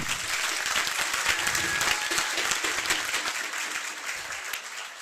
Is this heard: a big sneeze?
no